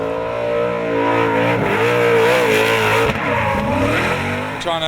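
A Dodge V8-powered 250 GT drift car at the D1NZ drifting round at Hampton Downs, Waikato, climbing the hill with a fuel issue, its loud engine roaring and revving continuously alongside screeching tyres.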